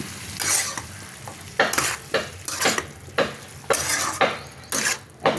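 Ghee sizzles in a pan of squash curry while a utensil stirs and scrapes in a steady run of bright, close strokes, each swell of frying noise following the spoon's rhythm.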